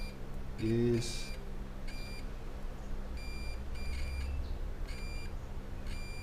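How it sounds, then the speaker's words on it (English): Several short electronic beeps from a multimeter continuity tester repeat at intervals as hexacopter wiring is tested, each a high steady tone, with a brief spoken word early on and faint background hum. "use continuity. I'm on negative, test all my negatives. They should all beep."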